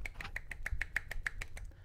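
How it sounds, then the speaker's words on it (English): About a dozen finger snaps in quick, even succession, crisp and close, with no voices over them. "He'll do some finger snaps."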